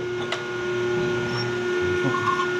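An ironworker machine punching a hole through steel with a half-inch stop, heard as a steady mechanical hum with a brief clunk of the punch stroke, close and fairly loud.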